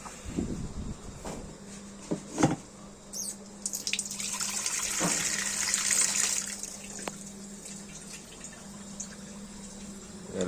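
Coconut milk poured into a pot of simmering curry paste for a Thai rice-field crab curry, a watery splashing gush building in the middle and fading, with a low steady hum underneath.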